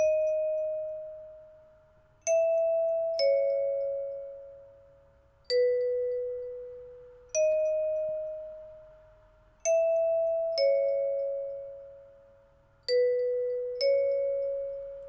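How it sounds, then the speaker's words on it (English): A simple bell melody from a Pluggnb beat plays with no talking, clear chime notes striking one at a time in a slow, uneven rhythm, each note ringing out and fading before the next. "Very simple bell."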